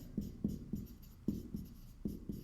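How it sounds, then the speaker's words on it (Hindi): Chalk or a marker writes on a board in a classroom, with a series of soft, close taps and short strokes at an uneven rhythm, faint and alone with no talking over it. "तो इसको हम लिखेंगे"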